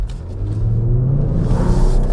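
A 2021 Kia Stinger GT with a 3.3-liter V6 and 8-speed automatic, rear-wheel drive, gives a loud close rumble as the engine note rises steadily under acceleration.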